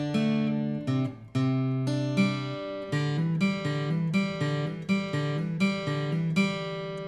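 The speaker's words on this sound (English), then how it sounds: "So that's got a real country twang to it." Acoustic guitar picking a chorus riff with a bright country twang, a steady run of plucked notes and chord changes played alone, close and clear.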